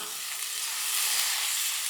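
Drumstick flowers for a village-style vegetarian curry sizzle and fry in a pan while being stirred, a steady soft hiss close by with faint scraping, no voices.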